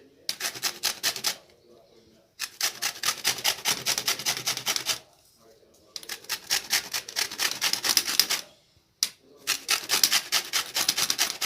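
A lemon is grated for zest in rhythmic, loud rasping strokes, four bursts of scraping separated by brief pauses.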